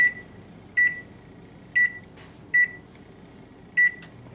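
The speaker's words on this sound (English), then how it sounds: "Set the oven to 400 degrees." Short electronic beeps from an oven control panel as it is set to 400 degrees, five evenly spaced single chirps over a quiet room background, close and clear.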